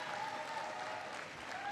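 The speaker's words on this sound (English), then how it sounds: "Give Lucille a big round of applause." Continuous crowd applause from an audience at a community college event, a steady wash of clapping at moderate loudness with no pauses.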